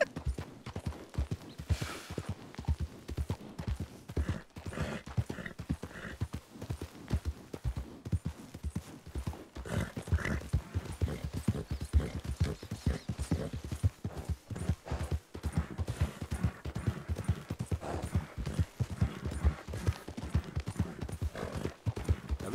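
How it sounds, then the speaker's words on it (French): Rapid, rhythmic hoofbeats of a horse galloping fast, continuous and close, with faint creaking and occasional brief breathy sounds. "j'ai rarement été aussi vite à cheval"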